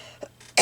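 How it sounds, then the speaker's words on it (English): A single sharp, loud cough bursts out near the end, preceded by a small throat sound, in an otherwise quiet room during a junk journaling craft session. "Sorry, I still get the coughing."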